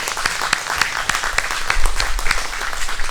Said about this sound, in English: let's give a round of applause for Chuck.